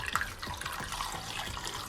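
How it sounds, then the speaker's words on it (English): Warm water poured over a chocolate-filled kitchen decorating pen makes a faint, steady splashing trickle, like water running from a tap, heard alone at close range. "the next step is to pour some warm water on top of our pen"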